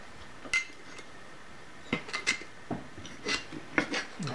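Screwdriver prying apart metal parts of a steady rest build, a run of scattered clinks, scrapes and rasping metallic taps, close and fairly quiet, with no talking.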